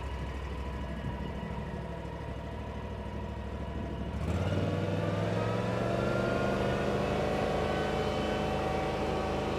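A zero-turn lawn mower engine on its first test run, idling steadily and then rising to a louder, fuller running drone about halfway through, heard close with no voices.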